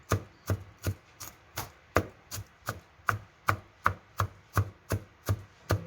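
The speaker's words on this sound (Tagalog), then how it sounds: "So, ito yung onions. Na-slice ko na siya. We need this onions. Kailangan slice siya ng maliliit." A knife chops onions into small pieces on a cutting board, about fourteen crisp, evenly spaced thuds in a steady rhythm, close and alone.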